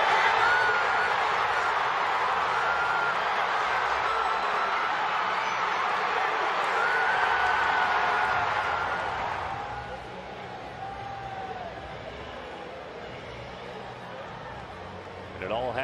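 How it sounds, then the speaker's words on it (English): A baseball stadium crowd roars and chants MVP for Shohei Ohtani after a walk-off, a loud sustained mass of voices that eases to a lower steady murmur partway through. "Crowd chanting MVP down below."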